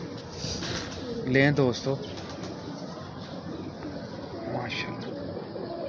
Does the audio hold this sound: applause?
no